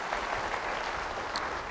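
Church congregation applauding during a sermon by Pastor Timothy Roy Kartiko, a steady, fairly quiet wash of clapping from a crowd that continues evenly throughout.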